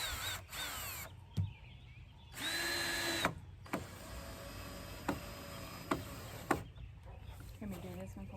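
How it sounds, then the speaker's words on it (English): Power drill driving screws into shiplap boards under a deck, a couple of whirring bursts of a few seconds each, with clicks and knocks between and people talking nearby. "and run your drill in."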